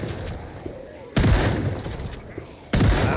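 Shotgun blasts fired at zombies in a multiplayer survival game. Two heavy, booming shots land about a second and a half apart over a steady rumbling background, with a voice talking quietly underneath.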